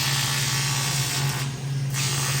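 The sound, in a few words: welding on a boat swim platform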